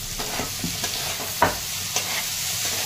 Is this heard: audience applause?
no